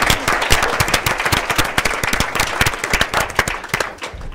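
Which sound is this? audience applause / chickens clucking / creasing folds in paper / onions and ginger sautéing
audience applause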